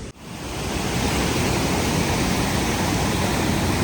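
A steady, loud rush of falling water from a waterfall fills the scene without pause, a dense broadband roar with no voices.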